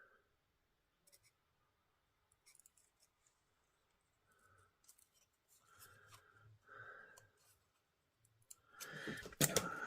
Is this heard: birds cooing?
no